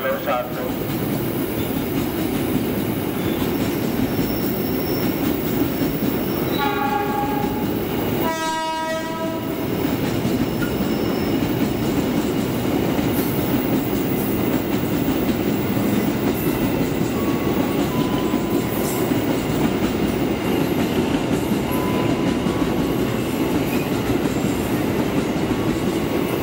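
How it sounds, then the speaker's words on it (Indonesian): An Indonesian cargo train rumbles past nearby in a loud, continuous roar, with a brief blaring horn blast partway through and rhythmic wheel clatter. "Barusan kereta api Abang Priok Cargo 2533."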